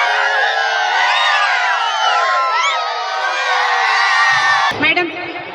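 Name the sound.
children clapping and cheering for rangoli contestants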